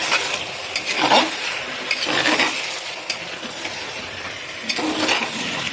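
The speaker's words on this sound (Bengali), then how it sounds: "দেখুন ভাজা চলছে।" Mutton frying in a pan with turmeric and salt while being stirred, a steady sizzle broken by recurring scrapes and clinks of the spoon against the pot.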